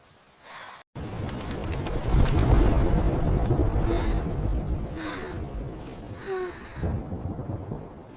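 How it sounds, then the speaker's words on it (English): A loud, deep rumble of thunder swells and rolls for several seconds, with wind-like noise over the top. "Thunder is so loud."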